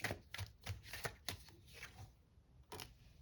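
Quiet, rapid riffling of a deck of playing cards being shuffled, a run of soft papery flutters and snaps close by with no talk.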